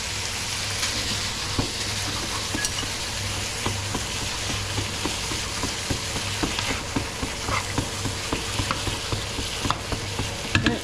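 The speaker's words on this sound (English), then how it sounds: "Prawns are getting fully cooked very quickly" Prawns frying in a pan, a continuous close sizzle with regular soft taps and scrapes of stirring running throughout, no voices.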